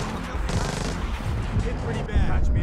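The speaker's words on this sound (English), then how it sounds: "Oh, he's shooting you!" Dense gunfire from the co-op stealth shooter Splinter Cell Blacklist at a smugglers compound, rapid overlapping shots and bursts filling the moment, loud and close, with a voice talking over the shooting.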